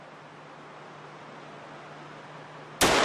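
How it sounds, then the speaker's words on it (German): A single sharp rifle shot cracks out loud and close near the end of a winter stalk hunt for roe deer doe, after a stretch of quiet, windy outdoor hiss. "Mit einem sauberen Schuss ist die Ricke noch in Sichtweite zusammengebrochen und verendet."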